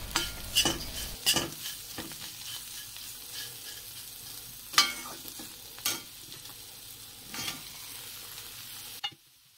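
Onion and bitter gourd bhujiya stirred in a pan, a low sizzle under repeated sharp utensil scrapes and clinks, ending in a sudden cutoff.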